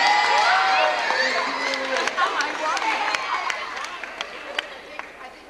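Crowd clapping and cheering for a prize winner at a winter arts festival show, a dense burst of applause and voices that starts loud and gradually thins out over several seconds.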